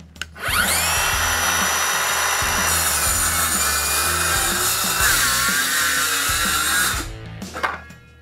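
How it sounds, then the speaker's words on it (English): An Exact Track saw starts up and plunges its blade into wood, a loud, steady whine with a grinding cutting rasp for about six seconds before it winds down, with no one talking. "Making plunge cuts with your Exact Track saw is very simple and easy."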